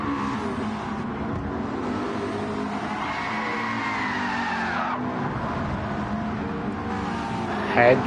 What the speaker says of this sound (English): Hand braking in style.